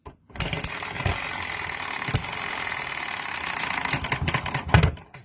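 A small model hit-and-miss engine with two piston rings, running cold, ticks and clatters steadily, broken by a few sharper firing thumps at irregular intervals, close and fairly loud with no voices.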